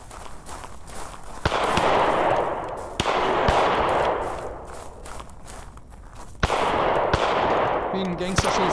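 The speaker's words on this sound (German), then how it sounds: "Wie ein Gangster schießen." Gunshots from a pistol in the brutal VR shooter game Blood Trail, a few sharp loud reports spaced seconds apart over a dense, noisy game background, with someone speaking in between.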